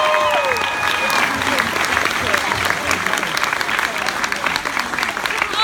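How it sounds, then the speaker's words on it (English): Sustained audience applause fills a convention panel hall at Toronto Fan Expo, a dense, loud patter of many hands with scattered cheers and voices mixed in. "Round of applause for Casey"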